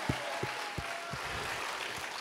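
A congregation at a Korean prayer-retreat revival meeting claps over a soft, hissy wash of crowd noise, with beats landing in a steady rhythm about three per second, heard faint and from a distance.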